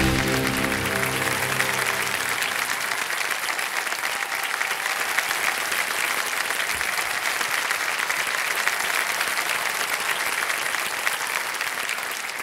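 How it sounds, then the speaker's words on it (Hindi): A studio audience on the game show Kaun Banega Crorepati, Season 14, applauds a contestant with loud, sustained, even clapping, and brief musical tones sound under the opening seconds. "तालियां बज जाए उनके लिए।"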